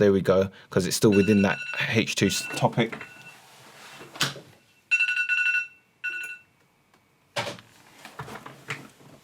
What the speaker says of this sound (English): Sorry, that was just my phone